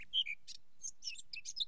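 Wild seabirds on St Brandon island, a remote Indian Ocean atoll, giving several quick high chirps and calls in a scattered rhythm, fairly close but soft, against otherwise quiet surroundings with no voices.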